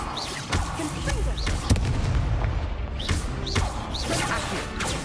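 Confringo blasting spells go off in Hogwarts Legacy, several sharp booming blasts with whooshing magical sweeps in a lively dueling scene, and a voice speaks briefly.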